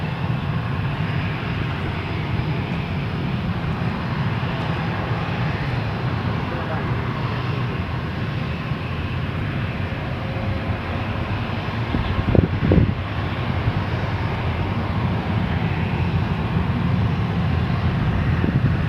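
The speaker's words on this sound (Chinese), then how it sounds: "新加坡七八七要起飞了" A Singapore Airlines Boeing 787 cargo jet takes off, producing a steady, broad engine roar that holds for the whole stretch, with a voice talking over it.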